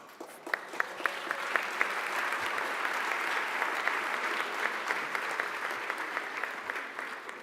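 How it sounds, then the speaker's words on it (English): Sustained audience applause at an anniversary gala honoring special honorees, a dense, steady wash of many hands clapping with a few sharper claps standing out, continuing evenly throughout. "I'd say hold your applause, but don't hold your applause."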